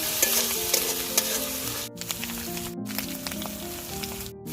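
Ginger and garlic paste fries and is stirred in a pan for an egg korma, a steady close sizzle with scraping stir strokes throughout and brief gaps of near-silence.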